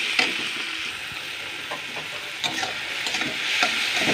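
Marinated chicken frying with onions and tomatoes in a pan for a Bengali red chicken curry, a dense continuous sizzle with intermittent stirring scrapes, near and loud, with no voices.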